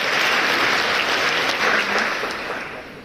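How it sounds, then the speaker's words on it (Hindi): Loud, dense applause from an audience welcoming a guest, sustained clapping from many hands that stays strong throughout and eases slightly near the end. "आप जोरदार तालियों से स्वागत करें।"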